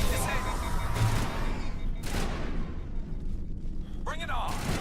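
Gunfire in Mass Effect 1 during a combat fight: sharp bursts of shots recur at intervals under a steady rumble of battle noise, and a person talks over part of it.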